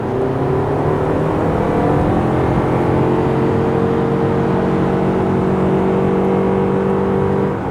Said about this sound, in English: The engine doesn't always feel the most refined, especially when you're trying to put some power down.